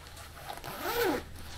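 The zip on a Snugpak Jungle sleeping bag pulled in one quick close stroke, a short rising rasp that peaks near the middle and fades, heard alone against a faint background hum.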